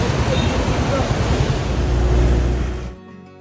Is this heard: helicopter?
no